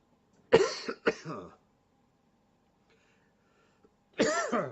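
Two quick, harsh coughs from a lingering cough, close together, a few seconds of quiet, then another rough cough up close.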